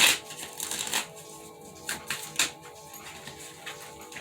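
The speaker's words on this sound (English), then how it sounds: "It's so hard to shuffle these cards for some reason." Tarot cards being shuffled by hand, crisp riffling bursts followed by a few sharp taps and shorter shuffles, close and fairly quiet with no talking.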